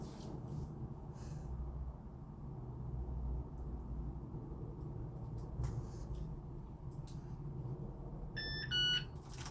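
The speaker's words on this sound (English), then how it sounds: "hold the R button for 15 seconds until you hear beep beep" A Yale Conexis L2 smart lock gives a couple of short, clear electronic beeps near the end after its R button is held, following a long stretch of quiet room noise.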